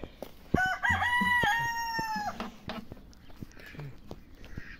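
A young rooster on a poultry farm crows once, loud and close, a long rising-and-held cock-a-doodle-doo, followed by a few soft clucks and quiet farmyard noise.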